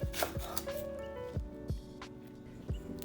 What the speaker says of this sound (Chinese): 大葱切段